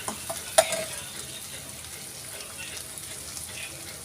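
Masala being stirred and sautéed in oil for a cashew curry, a steady soft sizzle with a sharp utensil clank near the start and light scraping throughout, close by.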